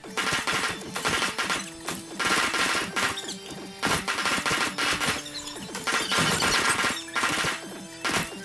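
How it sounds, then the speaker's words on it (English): Gunfire aimed at the player in Watch Dogs 2 mixes with crashing impacts, giving loud, irregular bursts of shots and smashes across several seconds that stop and start in quick succession. "Who's out here shooting me?"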